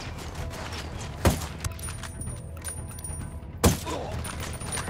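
Two loud sniper rifle cracks sound a few seconds apart during a tactical firefight in Ghost Recon Wildlands. Each shot lands over a low, steady ambient bed.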